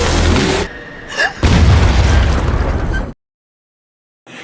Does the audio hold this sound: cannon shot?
yes